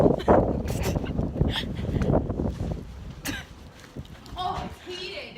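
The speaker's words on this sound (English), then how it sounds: "No wonder I cough like that." A person coughs in several harsh bursts outdoors during a snowstorm, with wind noise and voices talking around the coughs.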